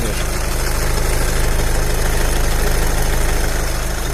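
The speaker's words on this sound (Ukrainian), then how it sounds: "так працює двигун" A 2012 VW Touran 2.0 TDI diesel engine idling, a loud, steady rumbling chug heard up close, running evenly throughout with no voices.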